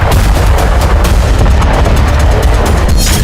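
Israeli air strikes in southern Lebanon produce a loud, dense barrage of booming blasts and rapid cracking bursts, overlapping and continuous throughout with a heavy low rumble underneath.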